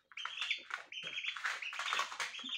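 A lone chicken chick kept in a box cheeps loudly and insistently, a rapid run of shrill, high-pitched calls close to the microphone.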